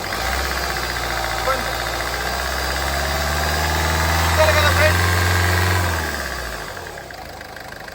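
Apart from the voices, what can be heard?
Ford Fiesta Classic 1.4 car engine revving with accelerator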